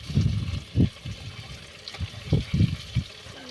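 Fish sizzling and crackling in hot oil, a steady hiss with louder spitting bursts rising every half second or so.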